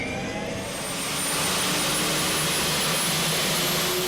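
A roaring jet-powered car engine of about 650 horsepower, capable of over 200 mph, sounding like an airplane: a loud, steady turbine whine and rumble that swells after the first second and holds at full strength.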